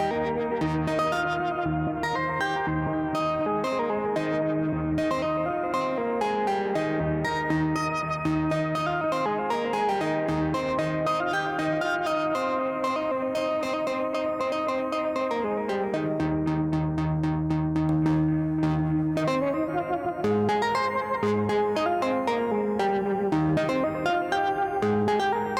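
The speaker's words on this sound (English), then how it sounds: "let's just put reverb on one and delay on the other" Synthesizer chords and melodic notes ring out, washed in reverb and repeating delay echoes, loud and continuous with no voices.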